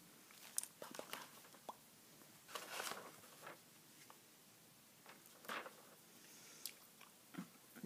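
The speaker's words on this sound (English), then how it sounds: "Here's the gum I'm chewing, by the way. This is the Bazooka original bubble gum." Bazooka original bubble gum being chewed close to the mic, with soft irregular wet clicks and squishes in quiet bursts and short pauses, and no talking.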